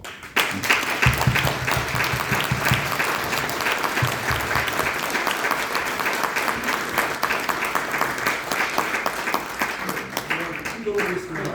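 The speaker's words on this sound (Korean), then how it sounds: "우리 한번 박수로" Congregants at a Methodist bishop's installation ceremony applaud at length, a full, sustained crowd clapping that stays strong and steady, with voices murmuring beneath it.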